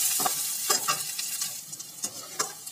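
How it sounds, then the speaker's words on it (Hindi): Onions sautéing in a pan after garlic and ginger, for paneer momo filling: a steady close sizzle with a few sharp scraping stirs of a spoon against the pan. "थोड़ा सा भून लेंगे।"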